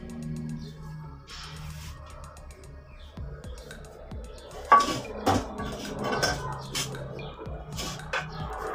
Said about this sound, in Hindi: अभी ये एक प्लेट लेके हमने इसमें चावल थोड़े थोड़े करके डालते जाएंगे।